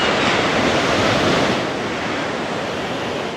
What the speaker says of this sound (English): Waves crashing against the sand in Rehoboth Beach.